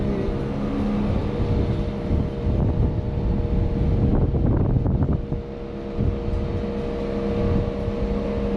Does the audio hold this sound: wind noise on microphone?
yes